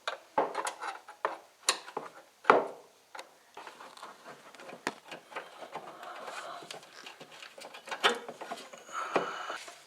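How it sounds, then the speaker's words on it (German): An open-end wrench turns a loosened brake hose fitting on a Porsche 944 S2, giving close, irregular metallic clicks, ticks and short scrapes with brief pauses between, fairly quiet and with no talking. "Wenn das mal lose ist, kann man das gut mit dem Gabelschlüssel drehen"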